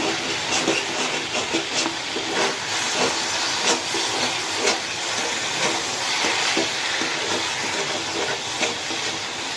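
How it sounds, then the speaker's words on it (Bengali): Food dry-fries in a pan after the water has cooked off, producing a steady loud sizzling hiss with scattered crackles and pops throughout. "এখন পুরো জলটা শুকিয়ে গেছে আর ভাজা ভাজাও হয়ে যাচ্ছে"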